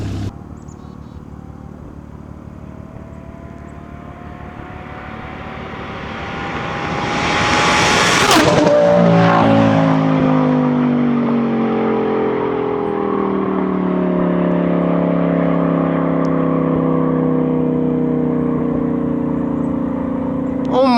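An Audi R8 V10 with a gated manual and Valvetronic exhaust drives past, its high-pitched engine wail climbing to a loud peak near the middle and then dropping in pitch as it pulls away, staying strong afterward.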